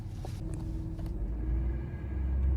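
A 2023 GMC Sierra 3500 diesel pickup pulls away from a stop at a red light, its engine a heavy low rumble that swells steadily as the truck accelerates, heard from inside the cab with no talking.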